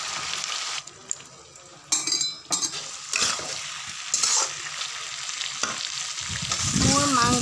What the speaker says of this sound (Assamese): এতিয়া মাংস আধা ফ্ৰাই হৈ গৈছে ইয়াতে মই কাটি ৰখা আলুখিনি দি দিম